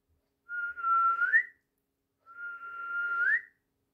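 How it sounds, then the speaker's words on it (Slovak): A person whistles two short notes, each holding steady and then sliding upward at the end, separated by a brief pause, with no other sound. "Keď prišla k stromu, začala hvízdať."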